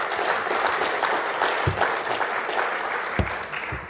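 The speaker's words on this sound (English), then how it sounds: "Please give him a round of applause." Dense, sustained audience applause at a business and education conference session, loud and close, a continuous crowd of clapping hands without talk.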